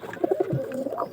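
Soft cooing of pigeons kept in a loft, a few low murmuring coos close by, fairly faint and with no talk.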